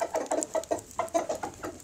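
A laying hen clucks nearby in a rhythmic string of short, evenly spaced notes that is moderately loud and heard alone.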